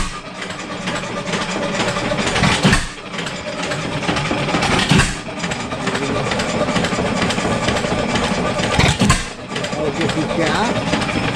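A 7HP Stickney hit-and-miss engine runs close by with a steady mechanical chugging, its loud din broken by brief dips every couple of seconds.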